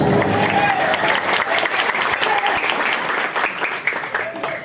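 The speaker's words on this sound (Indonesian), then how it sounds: "Tepuk tangan untuk Ustadz di Kadulimus." Loud, dense applause from the audience at a Maulid Nabi religious gathering in Indonesia, a sustained roar of many hands clapping for nearly five seconds with a faint voice underneath.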